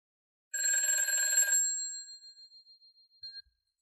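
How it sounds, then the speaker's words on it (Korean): A telephone rings once with a bright electronic bell tone for about a second. The ring then fades and rings out, followed by a faint click near the end. No one speaks. "오늘은 다행히 전화기가 세 번째 울릴 때 남편이 전화를 받았다"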